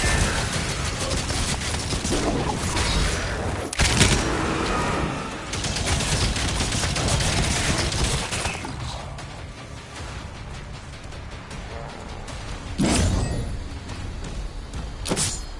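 Gunfire from a gun in the video game Doom: The Dark Ages, heavy shots and rapid bursts mixed with clanking mechanisms, loud and close, with brief pauses between volleys.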